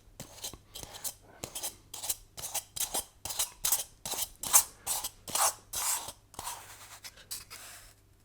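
A spire cutter tool slices an 8-sided spire from a foam block for tabletop terrain, a series of about a dozen rhythmic rasping strokes, close and moderately loud, with nobody speaking.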